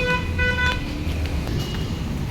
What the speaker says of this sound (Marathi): जो हॉर्न वाजवायला लागला हॉर्नमुळे आवाज येत नाही